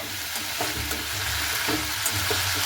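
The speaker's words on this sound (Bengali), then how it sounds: "খুব ভালো মতো করে কিন্তু পষে নিয়েছি আলু আর ফুলকপিটাকে" Potato and cauliflower sautéing with spices in a pan, a dense steady sizzle with rhythmic stirring strokes and light scraping, close and without talk.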